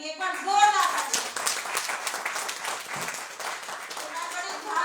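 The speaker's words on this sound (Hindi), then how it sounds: "तो एक बार जोरदार तालियां पहले मेरी ग्रेट अपलाइन नीतिका आशु सर के लिए, एक बार जोरदार तालियां" An audience at a product training event claps, a crackly patter of many hands continuing throughout, with voices over the start.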